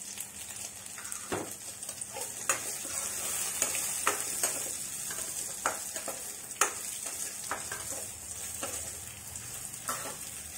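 Dry red chilies crackle as they fry in hot oil, a steady close sizzle broken by sharp pops and stirring clatters, with no voices.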